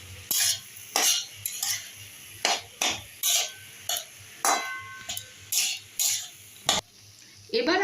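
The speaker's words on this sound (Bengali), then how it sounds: "এবারে বিট গাজরের সাথে ভালো করে আলুটাকে মিশিয়ে দিতে হবে" Grated boiled potato is mixed and mashed into beetroot and carrot in a pan for vegetable chops, a series of close, rhythmic scraping strokes of a utensil against the pan, each a short burst with brief pauses, no talking.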